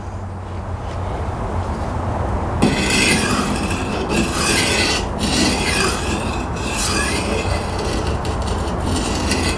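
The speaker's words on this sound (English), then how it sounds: "I'm sure you can hear that cutting this Tormek stone" A KitchenAid knife grinds against a CBN wheel on a Tormek T8 sharpener, starting abruptly into a continuous harsh rasping hiss with shifting intensity, close and loud.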